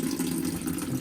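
Water runs steadily from a tap into a sink, a continuous close, even rushing stream with no talking.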